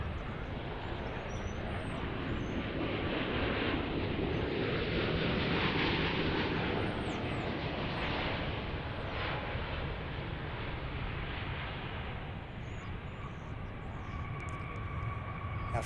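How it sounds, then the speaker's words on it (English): A Qantas Flight 21 heavy airliner, in from Melbourne, touches down firmly at DFW airport, giving a steady broadband engine roar and rushing noise that holds loud throughout, easing slightly toward the end. "A firm stick down landing there by Qantas Flight 21 Heavy"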